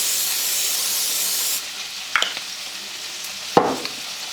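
Cooking spray hisses in a steady broadband burst into an 8 by 11 casserole dish for about a second and a half, followed by a couple of light clinks and taps, close and with no talking.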